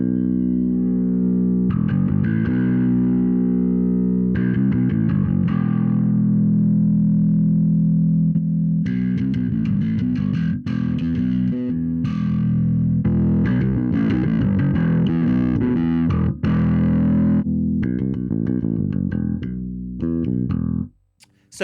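Bass guitar played through the distortion engines of a Darkglass Infinity Combo 500 amp, loud and continuous, with phrases of thick, gritty overdriven notes separated by brief pauses and no talking.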